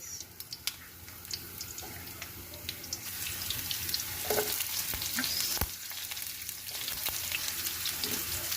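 Onions frying in hot cooking oil for chicken and pork adobo, a steady close sizzle with scattered clinks and stirring, growing louder and denser partway through.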